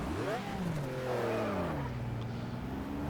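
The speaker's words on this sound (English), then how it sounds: "Come on, engine on." In a racing sim game, a race car's engine fires up and revs, its pitch climbing and dipping in smooth sweeps while someone talks over it.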